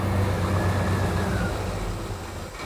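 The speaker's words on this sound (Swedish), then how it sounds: "Nej, det har ju hamnat en V8 i den här bilen. Och det är det vi lyssnar på nu." A V8 engine fitted in an old Volvo Duett rumbles with a deep, throaty low drone close by, strongest at first and easing slightly over a few seconds, with no talking.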